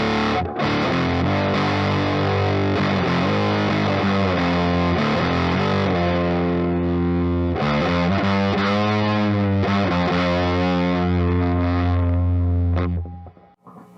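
Electric guitar through a Death By Audio Fuzz War pedal plays thick, buzzing chords and notes with heavy fuzz distortion, loud and sustained, then cuts off and rings out at the end.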